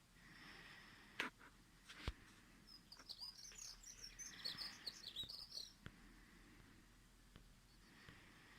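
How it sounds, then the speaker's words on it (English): Birds sing outdoors, with bright high chirps and trills that cluster in the middle of the clip, a few sharper calls near the start, and a faint steady background hum. "Some other singing birds, but when she sings, she has a most beautiful song."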